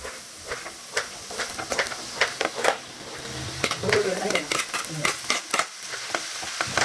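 Honagone greens fry on a low flame in oil with mustard seeds, garlic, curry leaves, onion and a pinch of asafoetida, giving a steady soft sizzle broken by frequent close clinks and scrapes of stirring.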